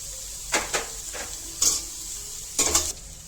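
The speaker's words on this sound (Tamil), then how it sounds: "வதக்கலாம்" Onions and spices sauté in a pan for a country-chicken curry: a low background sizzle broken by four or five bursts of spatula scraping and stirring against the pan.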